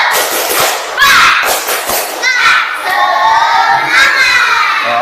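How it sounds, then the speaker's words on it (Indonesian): A classroom of students in an Islamic education lesson repeats the 'tepuk semangat' clapping chant. Lively children's voices call out in rhythmic waves with claps, and there is some talking mixed in. "Satu kali lagi, tepuk semangat."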